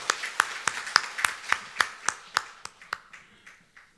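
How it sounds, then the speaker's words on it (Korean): Rhythmic clapping in a church service after a women's choir hymn, about a dozen sharp, evenly spaced claps that gradually soften and thin out toward the end. "하나님께 영광의 박수 드립니다"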